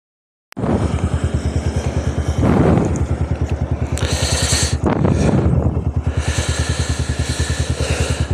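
A fully loaded touring motorcycle with a tank bag starts up and idles loudly and close on a windy day before a bike tour toward Thandiani, a steady rapid thumping engine pulse with occasional clatter and wind rush.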